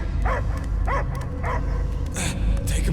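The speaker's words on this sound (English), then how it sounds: "I hear only barking." Repeated dog barks from a creature in the Guardians of the Galaxy video game, about four evenly spaced woofs over a steady background hum, followed by higher yelps near the end.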